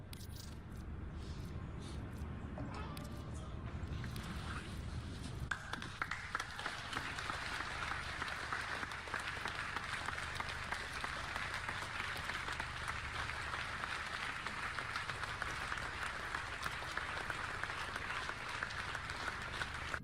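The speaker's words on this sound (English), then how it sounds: "a standing ovation for that" A standing ovation breaks out: after a few seconds of quieter room noise, dense, loud applause fills the space and continues steadily for the rest of the stretch, with crisp individual claps throughout.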